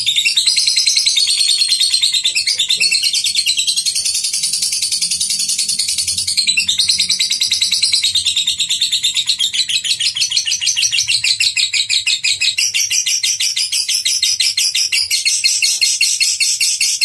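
A male lovebird chirps continuously, with rapid, high-pitched, rattling twitters close by and no pause, loud and steady throughout.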